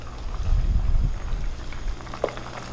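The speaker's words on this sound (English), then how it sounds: "I'm going to turn up the heat a little bit again and let it start boiling" A pot of okra soup with shrimp bubbles and simmers with a soft, churning rumble and faint popping, close up and without voices.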